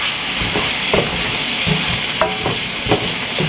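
Seasoned shrimp sizzle and fry in a hot pan for jambalaya pasta, a steady close hiss with a few soft scrapes of stirring.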